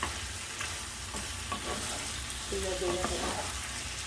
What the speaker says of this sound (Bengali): এখন আমি আরো কিছু সময় জাল করিয়া নিব মাছ আর আলুটা